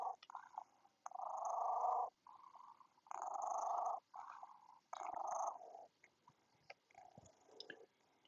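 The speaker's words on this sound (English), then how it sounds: "It's the chirpy sounds the cat makes." A cat making chirpy, throaty trilling sounds in several short bursts separated by pauses, close and quiet, with no talk.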